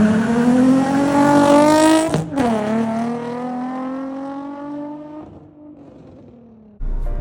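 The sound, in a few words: car exhaust, Megan Racing single exit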